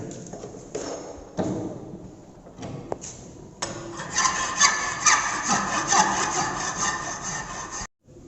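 A second cut file worked across a metal workpiece toward a marked final size, producing repeated rasping strokes of varying length that grow louder and denser midway through.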